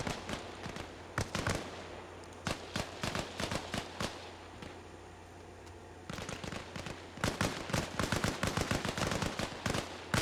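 Rifle and automatic gunfire in a milsim video game as Russian troops shoot at FIA fighters: repeated sharp bursts and single cracks, loud and close, coming in clusters with short pauses between volleys.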